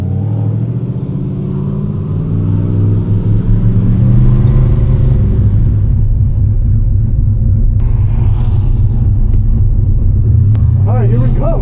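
A tuned, turbocharged car with a freshly fixed boost leak revs and rumbles steadily on a race track warm-up lap, the loud engine note rising and falling continuously with a voice talking over it near the end.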